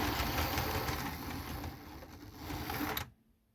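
The motor of a model railway three-way point drives with a dense, steady mechanical whirr close by for about three seconds, then cuts out abruptly into near silence.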